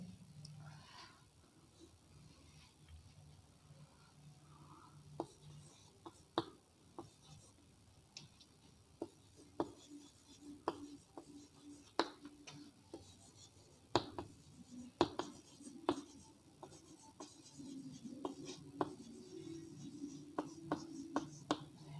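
A pen scratches and taps as a sentence is written by hand, with quiet clicks and strokes coming more often as it goes on and a faint voice in the background at times.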